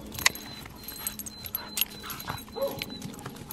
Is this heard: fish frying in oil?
no